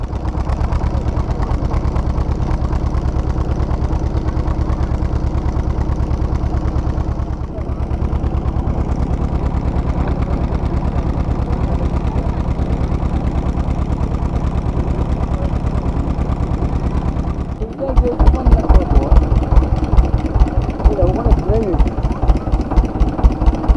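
A boat engine idles on a river in a Sundarbans village before departure, a loud, steady low drone that turns rougher and more pulsing near the end.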